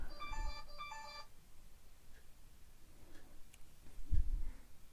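A mobile phone rings briefly with a short repeated electronic melody at the start, moderately close, followed by quiet room noise and a few faint knocks.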